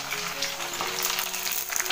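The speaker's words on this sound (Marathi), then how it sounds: "चला सगळ्या तळून घ्या मस्तपैकी." Pani puri puris frying in oil in a kadhai over a low gas flame, heard as a close, steady sizzle and crackle of hot oil with a faint tonal hum beneath and no talk.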